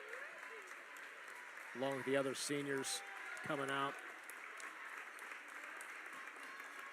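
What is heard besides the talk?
applause from home crowd at girls basketball game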